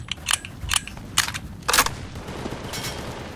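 Gunfire in a Roblox Vietnam war game: several sharp, separate shots in a loose, uneven sequence, fairly close, with a faint background hiss between them.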